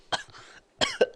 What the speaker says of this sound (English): I think I got a kennel cough.